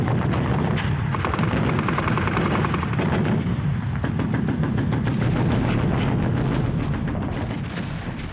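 Dense WWII battle gunfire on a Pacific island beach landing, with continuous overlapping rifle and machine gun bursts and heavy booms, loud and unbroken throughout.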